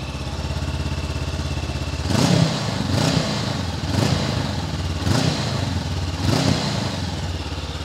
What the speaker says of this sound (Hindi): तो अब मैं आपको बाइक का एग्जॉस्ट और इंजन का साउंड भी आपको चेकआउट करा देता हूँ।